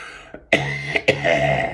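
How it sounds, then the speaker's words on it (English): A couple of close, sharp coughs, with a short throat-clearing sound just before them, and no talking. "Sorry about the cough, it's a tickle."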